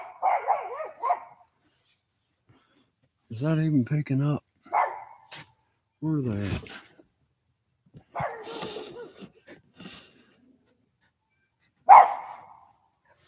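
A dog barks repeatedly at buzzards circling overhead outdoors, sharp barks in bursts spread across the clip, with a person talking in between and over them.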